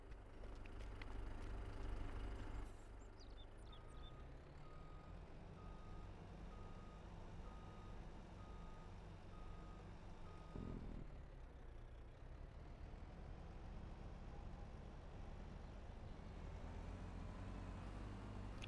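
A truck with a trailer backs up in a farming video game, its reversing alarm beeping at a steady pace over a constant low engine rumble, fairly faint.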